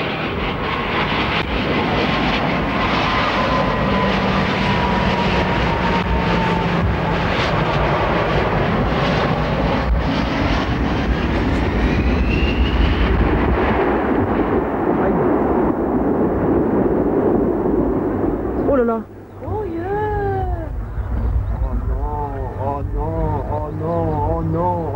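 An Airbus A320 makes a low pass at an air show before crashing. A loud, continuous jet roar swells and rumbles close by for most of the span, then breaks off abruptly into a harsher, wavering, tonal noise near the end.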